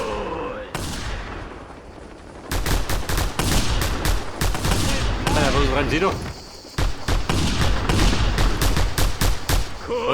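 Gunfire from Reapers in the video game Just Cause 2 comes as loud, rapid bursts of automatic shots that repeat through the scene, with someone talking over the shooting.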